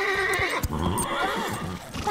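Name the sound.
horse neighing in a cartoon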